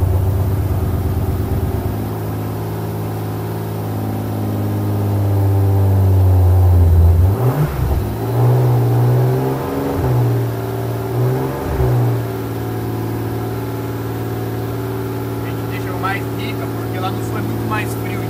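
A BMW E36 turbo idles while warming its oil, a steady low engine drone swelling slightly before settling into an uneven, pulsing idle, heard close while people talk nearby.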